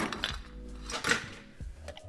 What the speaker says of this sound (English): And add fresh ice to the glass